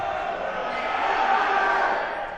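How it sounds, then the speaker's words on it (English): Crowd noise at a varsity high school basketball game during a free throw, a sustained roar of many voices filling the gym, loud and steady with a slight swell toward the end. "See if the crowd noise can make an impact again"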